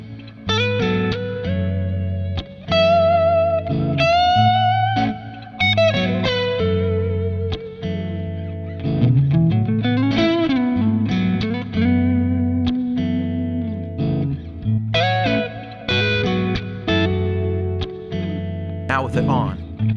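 Electric guitar runs through a Kemper amp profiler with the Klon overdrive pedal switched off, playing a loose jam of single-note lines, bends and chord stabs with light drive and ambient effects, close and continuous.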